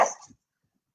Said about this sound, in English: I have my dog barking